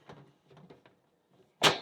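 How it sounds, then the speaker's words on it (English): An access door on an on-demand water heater shuts with a sharp, loud thud near the end, after a stretch of softer rattling and handling knocks. "When you close this door,"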